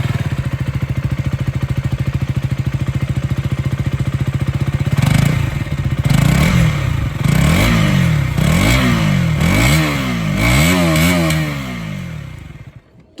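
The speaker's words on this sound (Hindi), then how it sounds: "एक बार फिर भी आप लोग सुन लीजिए यहाँ पर ये जो अंडरव्हील एग्जॉस्ट है उसकी आवाज़।" A 2024 KTM Duke 200 motorcycle with an underbelly exhaust idles with a rapid, even thrum, then is blipped through a series of sharp throttle revs that rise and fall, close and loud.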